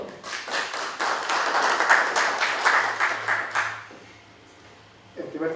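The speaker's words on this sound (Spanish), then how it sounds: "Un fuerte aplauso para don Pablo, por favor." An audience gives a guest speaker, don Pablo, a warm round of applause at a formal lecture event, dense clapping for about four seconds before it dies away, followed by a brief spoken voice.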